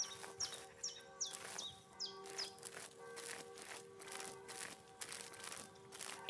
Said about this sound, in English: In the distance, a little way down the track, you can hear the singing of a blackbird